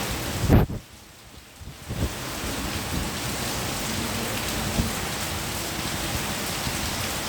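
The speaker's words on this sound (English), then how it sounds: "It's pouring down heavily." Heavy rain pours steadily outdoors on a road in Kingston, Jamaica, a dense, continuous hiss after a brief loud crack and a short lull near the start, with low thunder rumbling underneath.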